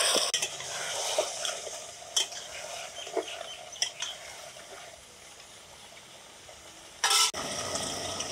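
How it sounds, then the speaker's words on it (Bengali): Ground spice paste stirred into chicken curry in a metal pot, a soft sizzle under intermittent scraping and clinks of the spoon against the pot, fairly quiet, with one louder sharp scrape near the end. "নেড়ে চেড়ে ভালোভাবে মিশিয়ে দিব।"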